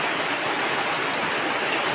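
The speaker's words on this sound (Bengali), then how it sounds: "বৃষ্টি আরম্ভ হয়েছে, অনেক বৃষ্টি দেওয়ার।" Steady, dense rain pours down without pause, a continuous broadband hiss that fills the scene evenly with no voices or other sounds standing out.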